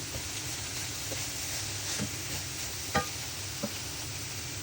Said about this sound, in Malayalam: തേങ്ങ ചേർത്ത ശേഷം നന്നായിട്ട് ഇളക്കി യോജിപ്പിക്കുക.